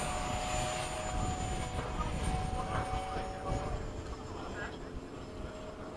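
An FMS F/A-18 radio-controlled model jet climbs out after takeoff at a flying field, giving a steady, loud, broadband rushing whine that holds throughout, with voices faintly in the background.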